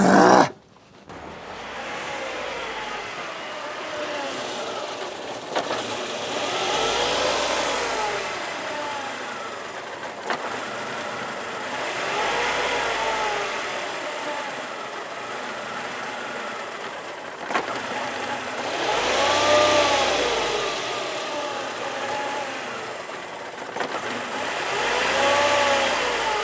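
A Mercedes W124 E220 idles with a raised, adjusted idle set by cable throttle, a steady close engine drone that swells and eases in slow periodic waves over its length, with no speech over it.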